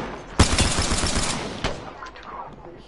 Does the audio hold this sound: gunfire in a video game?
yes